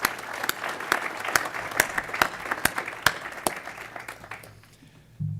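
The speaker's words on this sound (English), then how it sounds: "If everybody could please join me in a round of applause for those individuals" A conference audience breaks into steady applause with a few louder, distinct claps, then it dies away over about five seconds.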